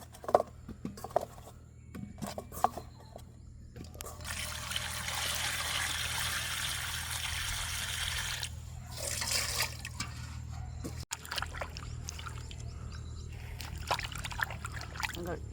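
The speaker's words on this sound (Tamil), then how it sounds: "வடிவாக உரிச்சிட்டா இனி தண்ணி விட்டு நல்ல வடிவாக கழுவுவோம்." Peeled cassava tubers washed in water at an outdoor village kitchen; splashing and trickling water comes in bursts, with a longer stretch of pouring and sloshing in the middle, plus light handling knocks between.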